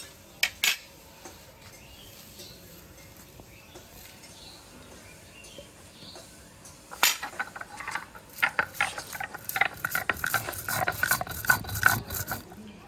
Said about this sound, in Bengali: এখন এই গরম অবস্থায় শিলনোড়া দিয়ে ভালো করে মশলাগুলো বেটে নেব।